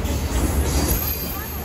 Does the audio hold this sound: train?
yes